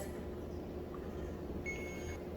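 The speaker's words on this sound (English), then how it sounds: "you see how it beeps every 4 seconds?" A HairMax laser hair device gives short, faint electronic beeps over a low background hum in a quiet room.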